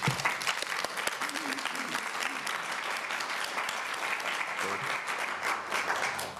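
Audience at a regular public meeting applauding, with sustained dense hand claps and individual sharp claps standing out, a few faint voices underneath, continuing for several seconds.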